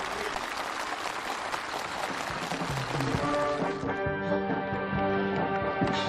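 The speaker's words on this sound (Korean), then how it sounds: "참가자들의 열렬한 박수 속에 전달됐습니다." Enthusiastic applause from a crowd of officials and farm workers at a new-housing ceremony fills the first half, then gives way to steady music with clapping continuing underneath.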